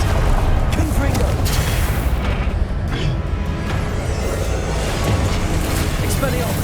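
Confringo explosive spell blasts in Hogwarts Legacy, a dense roaring, booming wash of repeated spell impacts and combat effects, loud and continuous throughout.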